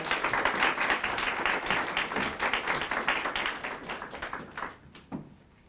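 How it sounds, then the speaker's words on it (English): Steady applause from an audience, a dense wash of clapping that holds for several seconds and then thins out, with a few final claps trailing off. "So please, a round of applause for Joy."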